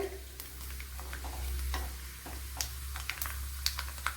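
Coconut pieces frying in a pan for Kerala sadya ada pradhaman, a steady low sizzle with scattered crisp crackles and occasional scraping stirs throughout.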